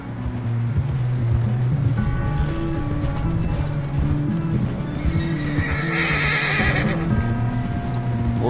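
Several horses in Red Dead Redemption II whinny and neigh in agitated bursts over a steady clatter of hooves, close and loud, with a shrill high whinny rising toward the end.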